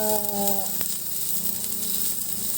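Pork fat sizzles steadily in a pan, rendering its oil for Japanese ramen, a constant close crackle and hiss, with a brief tonal hum at the start.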